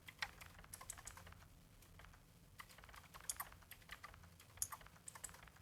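Typing on a computer keyboard during a zombie typing game: fast, uneven bursts of close key clicks and clacks run continuously, fairly quiet and without talk.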